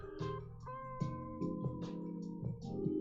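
Several kitten meows rise one after another, close and fairly clear, over a steady tonal hum from something else in the room, with no talking.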